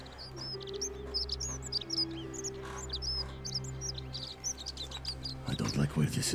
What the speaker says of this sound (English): There's a bird chirping in my right ear and I fucking hate it.